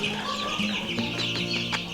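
A young pet chick clucks in short, soft bursts over a steady background hum, several quick clucks and peeps close by, with no talking.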